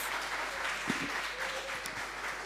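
An audience at a disaster risk reduction panel discussion and exhibition applauds the panelists with a steady, moderately distant wash of many hands clapping, filling the whole stretch without a break.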